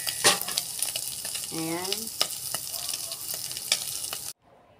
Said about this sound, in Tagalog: Igisa ko lang po to saglit tong sibuyas.